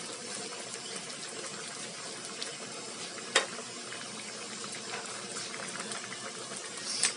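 Coconut milk simmers in a pot with vegetables and dried anchovies for ginataang gulay, giving a steady, fairly quiet bubbling hiss throughout with one brief louder pop in the middle and another near the end.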